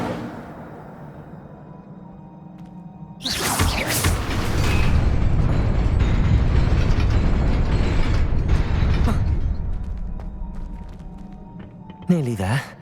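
Incendio fire spell in Hogwarts Legacy: after a quiet stretch a loud roaring whoosh of flame bursts out and holds for about six seconds before dying away, followed by a sharp, brief magical flourish at the end.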